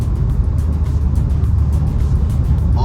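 Engine of a 2022 Maruti Suzuki XL6 automatic pulling in fifth gear, a steady low drone with road and wind noise heard from inside the cabin, no talk over it.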